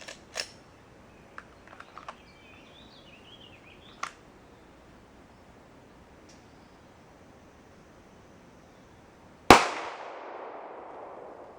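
A single 9mm pistol shot fired with Freedom Munitions remanufactured ammunition at 21 feet, a sharp loud crack that rings out and decays, after several faint scattered clicks and taps.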